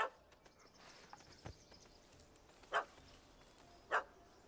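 Two sharp yips from a small dog in The Witcher 3, ringing out alone over quiet game ambience, one after the other about a second apart.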